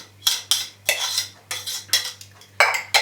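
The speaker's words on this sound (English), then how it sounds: "I'm going to mix all that and into a batter" Crushed mint and green chili being mixed into a flour batter for paneer pakora, heard as a spoon scraping and clinking against a bowl in about seven distinct strokes, close and alone.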